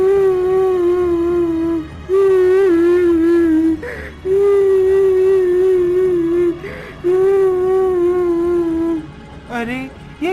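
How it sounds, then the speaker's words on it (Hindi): A woman wails and sobs in long, drawn-out cries broken by short gasping breaths, loud and close. "अरे ये किसके रोने की आवाज है?"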